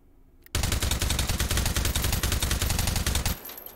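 A suppressed L85A2 rifle in the virtual reality shooter H3VR fires a rapid, evenly spaced automatic burst of about three seconds, loud and close, then stops abruptly.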